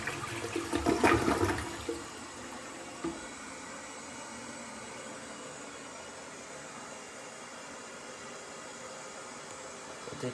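A brandless front-flusher toilet flushes Charmin toilet paper in a home bathroom, a loud rushing whoosh over the first two seconds that settles into a long quiet hiss as the tank refills.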